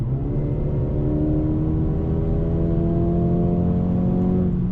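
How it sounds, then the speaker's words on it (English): A 2020 Mercedes-Benz CLA35 AMG accelerating at full throttle from inside the cabin, a loud steady engine drone rising gradually in pitch as it pulls hard, heard alone without talk. "let's do some fully automatic acceleration"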